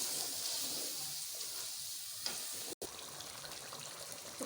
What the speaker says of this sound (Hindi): तो 5 मिनट तक मैंने दही मसाला डाल के भूना।